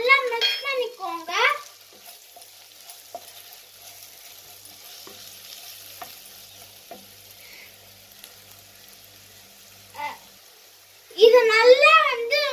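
Masala with plain chilli powder and coriander powder is stirred in a pan for chilli parotta, making a faint, soft sizzle with light scraping clicks from the spoon, and a person talks before and after it.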